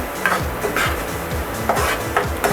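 Masala for dhaba-style paneer masala is stirred in a pan over a low flame. A ladle scrapes and knocks against the pan in a steady rhythm of close, repeated strokes, with no talking.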